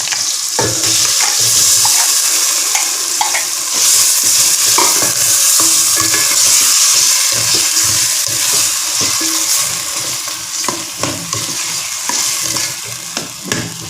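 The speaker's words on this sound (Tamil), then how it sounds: "சிக்கன் கொஞ்சம் வதங்கணும்." Chicken pieces sautéing in a pan for chicken soup, a loud continuous sizzle close up, broken by frequent stirring clatter and scrapes of a utensil against the pan.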